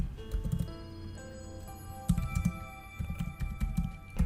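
Computer keyboard keys being tapped in short irregular bursts, soft and close, with scattered clicks over a faint steady background hum and tones.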